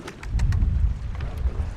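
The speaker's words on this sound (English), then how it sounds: "Oh, it's very windy." Strong wind buffets the microphone out on the water during a rowing race on the Charles River, a low rumbling roar with gusty swells that stays steady throughout.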